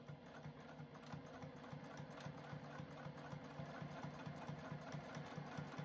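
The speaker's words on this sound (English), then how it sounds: "I'm going to top stitch it on my machine." A JUKI TL-18 sewing machine runs steadily while top stitching fabric for a dog bandana, its needle clattering in a fast, even rhythm with a constant motor hum, close and alone.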